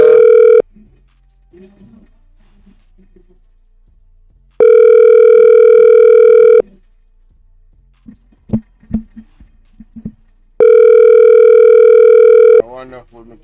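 A telephone dial tone sounds in three long steady stretches while calling the next caller on a live call-in show, with someone talking in the gaps between them.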